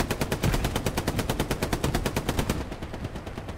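Rapid machine-gun fire rattles from a tank crew in the World War II video game Hell Let Loose on the Foy map, a steady, loud stream of evenly spaced shots that cuts off near the end.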